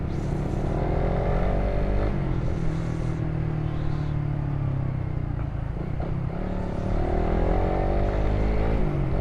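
Engine of a Suzuki Raider Fi motorcycle fitted with a 45-tooth rear sprocket, droning loudly and continuously close by, rising and falling in pitch as the throttle is worked.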